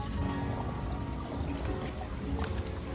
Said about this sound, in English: Time to fill up the jugs.